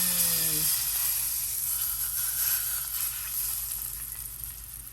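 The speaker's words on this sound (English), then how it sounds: "Hear that sizzle?" Chunks of baigan (eggplant) hit hot olive oil in a pan and set off a loud, steady sizzle. The frying hiss carries on close up without a break after a brief tone at the start, and no one speaks.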